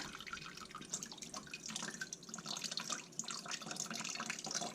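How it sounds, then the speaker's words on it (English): Homemade red wine poured slowly through doubled cheesecloth stretched across a container makes a continuous close trickle and splash with uneven dripping throughout, and no voices. "I slowly pour that through that and let it catch it."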